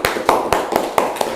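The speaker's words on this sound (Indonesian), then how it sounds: "Berikan tepuk tangan ya." Applause from a class of students, heard as about six sharp, evenly spaced claps over a moment, fairly close and moderately loud with no talking.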